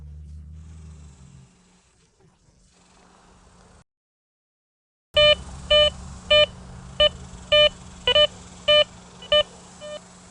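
A Garrett Vortex metal detector emits a series of loud, evenly repeated electronic beeps as a coin is passed beside a large nail, starting abruptly after a quiet stretch with a low hum beneath.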